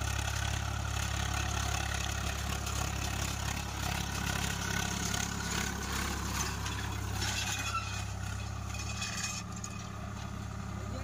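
A Swaraj 744 FE tractor engine running with a cultivator attached, a continuous low, chugging diesel rumble close by, steady throughout with slight shifts near the end.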